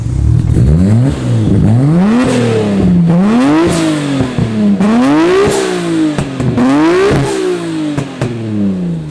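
A Nissan Skyline R34 GT-R engine revs hard again and again, the exhaust rising and falling in loud, rhythmic bursts close by.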